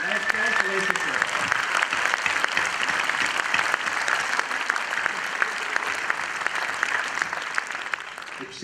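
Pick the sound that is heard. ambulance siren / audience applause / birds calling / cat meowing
audience applause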